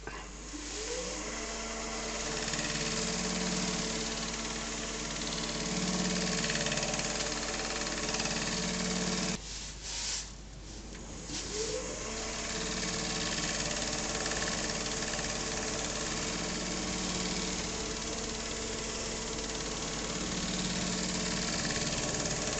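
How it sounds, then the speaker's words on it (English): A wood lathe spins a split yew bowl with a continuous motor hum and whir, briefly dipping and returning partway through, steady and close with no talk. "And you stick the lathe back on again."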